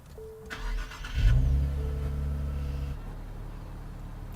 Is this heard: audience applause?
no